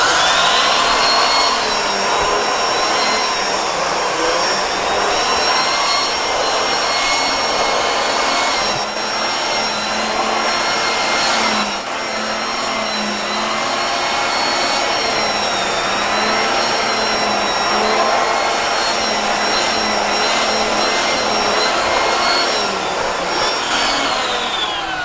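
A Bissell Pet Hair Eraser Turbo Plus vacuum running with its turbo eraser tool gives a loud, steady motor whine with a high tonal hum, continuous and close throughout, with no talking.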